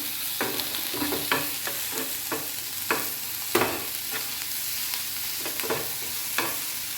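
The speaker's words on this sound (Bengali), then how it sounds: "এবার আমি লঙ্কা কুচিটা দেবো, আদা পেস্ট দেবো আর রসুন থেতো করে রেখেছি ওটা দেবো। এটা একটু ভেজে নিই।" Chopped chilli, ginger paste and crushed garlic frying in a pan after the onions, with a steady sizzle and repeated scraping stirs at irregular intervals, close and alone.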